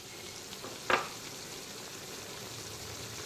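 Ginger, garlic and dried red chilli paste sizzles steadily in hot oil in a pan for mutton curry, with one brief louder splutter as it is added, then a soft continuous frying hiss alone.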